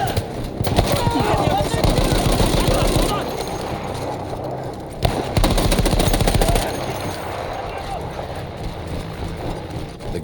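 A mounted machine gun fires long sustained bursts in Battlefield 1, loud and close. The rapid rattle runs almost continuously with a brief break midway, and a voice calls out under the din.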